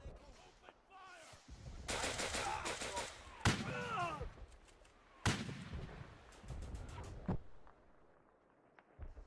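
Gunfire in the World War II shooter Easy Red: rifle shots, machine-gun bursts and heavier booming blasts crackle in irregular volleys, near and far, with in-game soldiers shouting in between.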